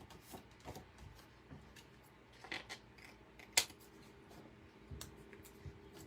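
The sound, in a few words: cutting white thread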